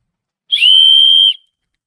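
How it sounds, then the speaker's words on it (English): A single loud, piercing blast from a survival whistle, held steadily for under a second, clear and alone against silence. "The other whistle,"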